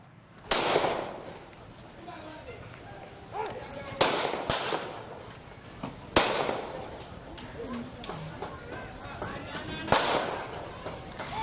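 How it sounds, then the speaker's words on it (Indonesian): Sharp warning gunshots fired into the air by police during a drug raid on a village in Medan, Indonesia, crack out one at a time at irregular intervals, loud and echoing, amid shouting and crowd noise. "Polisi terpaksa melepaskan tembakan ke udara untuk menakuti para pelaku"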